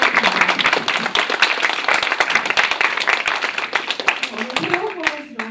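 An audience at the 2015 HiCOF academic conference claps steadily and densely for several seconds, with a voice emerging faintly as the clapping thins near the end.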